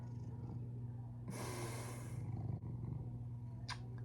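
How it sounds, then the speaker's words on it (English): A pet cat purring loudly up close, a steady low rumble running through the whole stretch with a brief breathy burst in the middle. "He's purring so loud."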